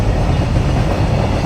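A train passes a railway crossing at close range, a loud, continuous rumble of wagons and wheels that fills the whole moment without letup.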